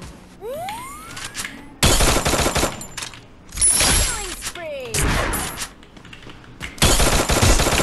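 Rapid gunfire bursts in the mobile battle game Free Fire, loud and close, coming in several heavy volleys with sweeping whooshes and pings between them.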